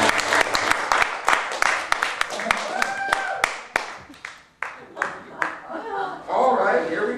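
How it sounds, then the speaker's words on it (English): Audience applause for a sword-swallowing stunt, dense clapping from a crowd that swells and then tapers off, with voices and cheers mixed in near the end. "I'm going to get 3 times the applause"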